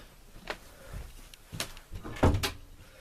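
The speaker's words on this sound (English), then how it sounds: "Need to shut the door real quick" An indoor door swings shut with a few soft bumps and one firmer thud, quiet and close, with faint rustling around it and no talk.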